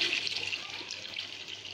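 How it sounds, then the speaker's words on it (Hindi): Half a cup of water poured into a chana dal kofta gravy, a steady close splashing hiss throughout, fairly quiet, with no talk. "देखिए अब इसमें डाल देंगे आधा कप पानी का।"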